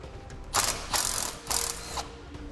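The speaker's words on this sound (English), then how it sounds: "we'll take the two nuts off that hold it onto this bracket here" A ratchet wrench with a socket backs nuts off a bracket on a 2008 Ford F-450 during a gooseneck trailer hitch installation, giving three close, even bursts of rapid clicking with no voices.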